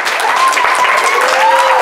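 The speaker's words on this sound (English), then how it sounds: "Give a round of applause." Applause for the contestant taking the lead in a lively game, brief and fairly loud, a short burst of clapping with a voice-like tonal line running over it.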